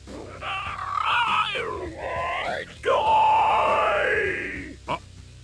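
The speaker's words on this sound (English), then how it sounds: "And Monster Ock, if you listen to his scream, it sounds like he did a burp at the end" Monster Ock's scream from the PS1 Spider-Man video game: a loud, drawn-out bestial wail with sweeping pitch, rising then falling into a long groaning roar that ends in a short burp-like grunt.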